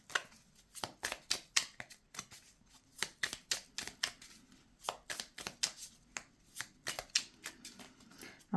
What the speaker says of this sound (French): Moi, je vais mettre une carte sous chacune des pierres.